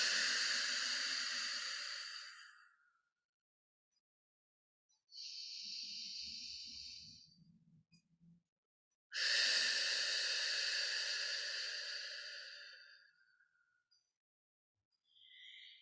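Slow, deep breaths during a calm breathing exercise: a long airy exhale, a quieter breath in, then another long exhale, all close to the microphone with no talking.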